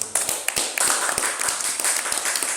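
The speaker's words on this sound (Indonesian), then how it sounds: "Kita tepuk tangan dulu" Audience at a student talk show claps in short, uneven bursts, a small crowd's sharp hand strikes scattered across a couple of seconds, close and fairly loud.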